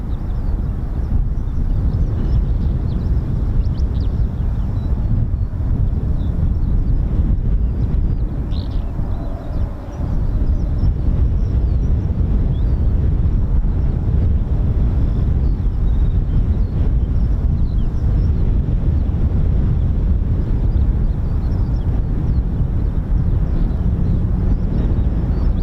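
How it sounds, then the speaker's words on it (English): Twin General Electric F404 turbofan engines of a Spanish Air Force EF-18 Hornet spool up at RAF Marham, a loud steady roar with a faint high whine held at close range throughout. "You can hear those beautiful engines starting up. Lovely howl."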